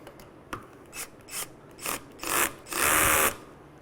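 A Lowrance transducer mount is cinched down tight in a series of short ratcheting rasps, each burst longer and louder than the last, ending in one sustained grinding pull, close and with no talking.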